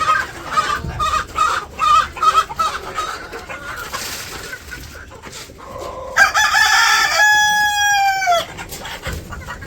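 Village chickens cluck and squawk close by in a busy, uneven stream, and a rooster lets out one loud, drawn-out crow near the end.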